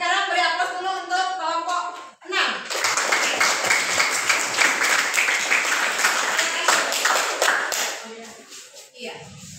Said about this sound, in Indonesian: Sekarang beri aplaus dulu untuk kelompok 6